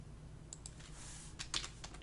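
Typing on a computer keyboard, a short burst of scattered key clicks with a couple of sharper taps near the end, close and fairly quiet, no voices.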